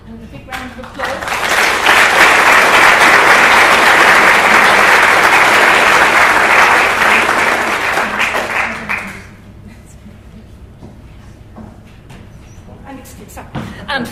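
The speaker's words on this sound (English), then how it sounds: "Congratulations, Lucy, and a big round of applause." A memorial evening audience bursts into loud, sustained applause lasting about eight seconds, then it drops off abruptly to quiet room tone with faint scattered sounds.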